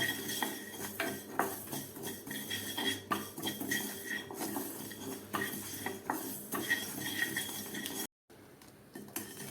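Fenugreek, cumin and coriander seeds dry-roast over low heat in a pan, a spoon scraping and clinking against the metal with light rattling throughout, close and fairly quiet, ending in a brief cut to silence.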